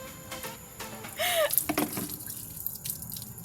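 Water runs and drips at a sink while someone's hair is rinsed, with splashy trickles and a brief louder gush, close and fairly quiet.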